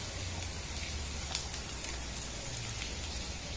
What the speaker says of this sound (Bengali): দেখুন এই শুকনো ড্রাই ফ্রুটগুলোকে একটু নাড়াচাড়া করে ভেজে নিয়েছি